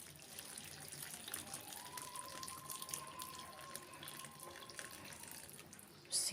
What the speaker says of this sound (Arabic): وهنا بقى هبدا انزل بالشوربه اللي انا سخنتها اهو